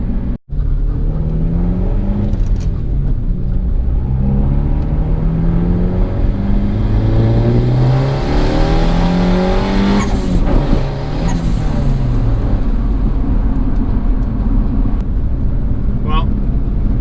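A turbocharged Honda Accord engine revs hard and accelerates through repeated climbing pulls, loud and close throughout, with a sharp burst of intake or exhaust noise near the end.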